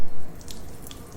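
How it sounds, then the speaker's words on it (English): Water poured out onto the ground as an offering gives a close, soft splashing and trickling with a few brief drips, alone without talk. "As I pour this water as a offering to you"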